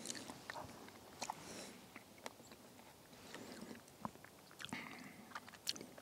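Someone eats a low-carb keto huckleberry crumble topped with cream and berries, giving soft, quiet chewing and small bites spread irregularly through a few seconds, with no talk.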